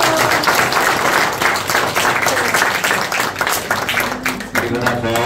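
Clapping from a church congregation during a balloon sermon and puppet show in Nepal, loud and continuous with voices mixed in and a shout near the end.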